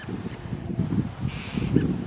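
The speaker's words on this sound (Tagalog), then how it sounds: "Kaya yung mga ibon ay nagwawala." Loud, agitated bird squawks and honking calls come in repeated bursts, harsh and close, several birds crying out over one another, defending a nest overhead.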